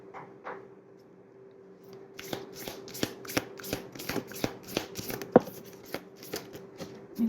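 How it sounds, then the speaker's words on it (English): Oracle cards being shuffled by hand at a tarot reading table, a steady run of crisp riffling flicks repeating roughly every third of a second, close and clear, after a few quiet taps at the start. "I'd actually like to pick your oracle cards and see what other messages we can get."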